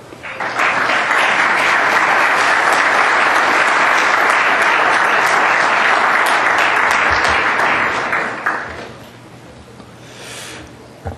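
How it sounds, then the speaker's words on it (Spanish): A lecture audience welcomes a speaker with loud, dense applause that holds steady for about eight seconds, then quickly thins out and fades to a quiet room. "Sin más preámbulo, recibamos al doctor Costa con un fuerte aplauso."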